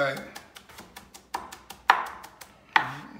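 A knife chopping onions on a cutting board in a regular rhythm, about a dozen close, crisp taps over three seconds, with a few louder cuts standing out and no talking.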